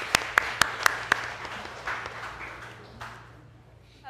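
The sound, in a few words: congregation applauding to welcome a guest in church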